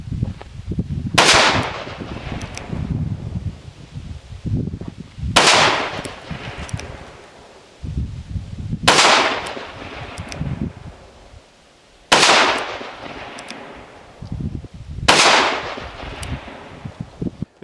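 A Smith & Wesson Model 36 Chief Special .38 revolver fires double action: five sharp, loud shots spaced roughly three to four seconds apart, each followed by a brief ringing decay.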